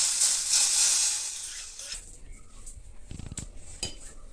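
Hot mustard-seed tempering hisses and sizzles loudly as it is poured into a pot of sambar, fading after a couple of seconds into the clink and clatter of a metal pot and spoon nearby.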